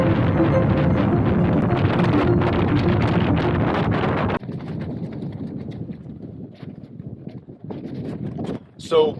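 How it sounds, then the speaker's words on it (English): A strong wind of around 40 miles per hour roars and buffets a Fjallraven Abisko Lite 2 tent at night, loud and constant at first, then dropping to a softer gusty rush with a brief flap near the end. "It was horrendously windy. Even now, the wind's sort of approaching sort of 40 miles per hour."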